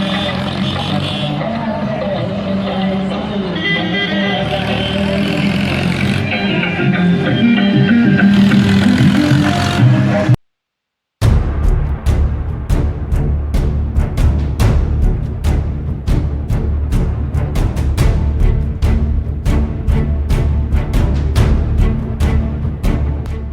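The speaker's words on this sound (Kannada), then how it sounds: "ಮಿತಿ ಮೀರಿದ ಟ್ರ್ಯಾಕ್ಟರ್ ಸೌಂಡ್ಗಳ ಆರ್ಭಟ" A tractor in Gokak carries a loud DJ sound system blasting music with heavy bass. After a brief dropout, pounding rhythmic beats take over, steady and dominant throughout.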